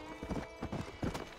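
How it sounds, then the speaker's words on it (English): Hoofbeats of a galloping horse in the Red Dead Redemption video game, rapid repeated clip-clop thuds in uneven bursts, fairly close and moderately quiet, with no voices. "We're still need a name for our horse, but look at it, it's coming back, look how fast it is"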